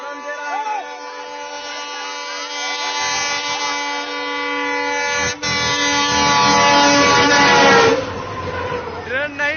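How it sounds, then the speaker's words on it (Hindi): The Danapur Intercity train passes at full speed through a crowded spot, its loud horn blaring in long sustained blasts with rising rumble and rattle of the passing train, while voices shout nearby. "ट्रेन हॉर्न दे रहा है"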